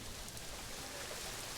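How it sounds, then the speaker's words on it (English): Rain falling in the zoo-building video game Planet Zoo, a faint, steady hiss of broadband patter with no distinct drops standing out, heard alone without talk. "really does look quite bad when it's raining like this"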